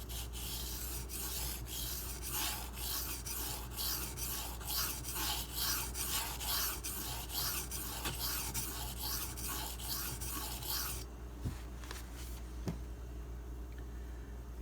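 A steel m390 knife is stroked across a Takarazukushi 1k/4k whetstone in quick, rhythmic rasping passes. The passes stop partway through, leaving faint scattered scrapes afterward.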